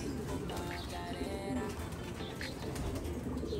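Pigeons coo softly around a loft landing board, with possible brief wing flaps, a faint and steady murmur in the background.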